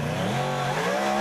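A MotoGP motorcycle on the Adelaide street circuit, crossing a footbridge, gives a brief, loud burst of revving engine with a rising tone, and no voices.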